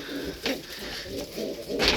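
Pigeon cooing from a slim, small piebald hen among acrobatic tumbler pigeons, a few short soft coos rising in bursts over a steady background hum, fairly close.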